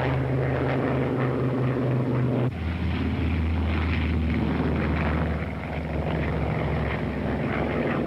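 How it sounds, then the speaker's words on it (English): P-51 Mustang fighter planes take off during the Korean War, producing a loud, continuous roar of piston engines with a sharp shift in pitch partway through as they power up. "As fast as they can get their Mustangs off the ground, the pilots of a South African fighter squadron are coming to their help."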